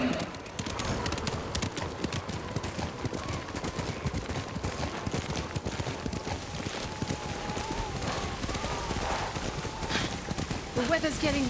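Horse hooves clip-clop in a steady rapid rhythm while riding through snowy weather in the video game Ghost of Tsushima, with game music and characters speaking over the hoofbeats.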